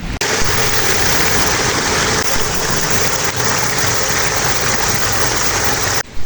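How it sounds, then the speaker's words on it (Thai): Fast-flowing rainwater after a heavy downpour pours in a steady, loud, broadband rush that stays constant from start to finish and cuts off at the end. "ฝนตกแป๊บเดียวน้ำไหลเชี่ยวมาก ๆ เลยค่ะ"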